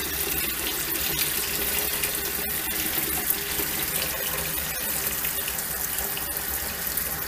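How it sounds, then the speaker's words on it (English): Tap water runs steadily into a pot to soak saltfish for a Jamaican saltfish and okra dish, a continuous soft splashing rush heard alone at moderate level. "I'm going to put a fresh batch of water in and let it soak for another 15 minutes"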